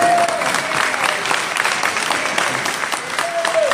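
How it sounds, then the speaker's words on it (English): Audience applause at a survivors of violence event, dense continuous clapping at steady strength from a sizable crowd, with faint voices underneath. "can we give Dennis Cash a round of applause, please?"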